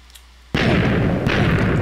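Cannon firing and exploding in Minecraft: after a quiet start comes a sudden loud booming blast, then a second burst about three quarters of a second later, both close with rumbling, sustained noise.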